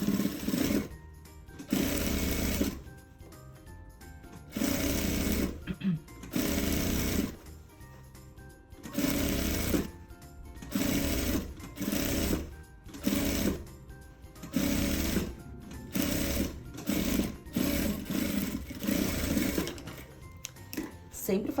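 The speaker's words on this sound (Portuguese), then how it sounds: "Vou passar a costurinha em todo o comprimento" A sewing machine stitches the lining of a maternity bag in repeated loud bursts of rapid mechanical whirring, separated by short pauses, with a voice talking in the gaps.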